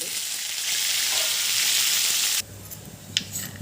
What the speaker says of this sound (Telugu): ఆవాలు బాగా చిటలకమన్నాక ఇందులో జీలకర్ర పచ్చిశనగపప్పు మినప్పప్పు కరివేపాకు వేసుకోండి